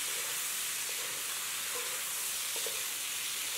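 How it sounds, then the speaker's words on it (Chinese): Pork slices, bamboo shoots and green and red peppers stir-fry in a hot wok, a steady close sizzle and hiss with a few soft scraping stirs, no talking. "等到青红椒断生之后，就倒入事先盛出来的肉片一起炒一下"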